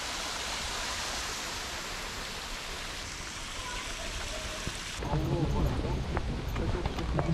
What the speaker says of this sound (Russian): Какой-то такой вот водопад.